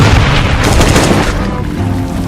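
Explosions and gunfire in the zombie survival game Last Day on Earth: Survival, fighting in a swamp area: loud, dense booming blasts that roll continuously and fade slightly toward the end, with no talk.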